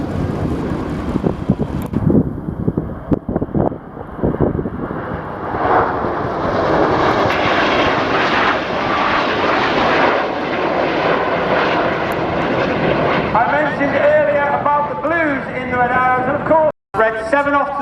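Red Arrows jets roar overhead at an airshow while flying a corkscrew manoeuvre, a loud sustained engine rush that swells and shifts as they pass, mixed with wind buffeting and a commentator's voice.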